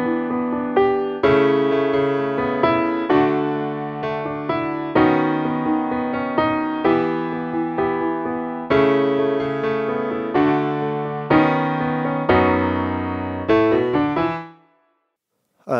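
Piano plays a steady bridge riff in octaves from a song, each note struck firmly with a bright ringing tone, repeating in even rhythm before fading into silence.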